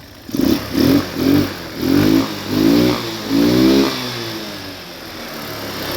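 A GY6 150cc scooter engine revving at the start of a ride: five or six quick throttle blips rising and falling close by, then settling into a lower steady hum, with no talking.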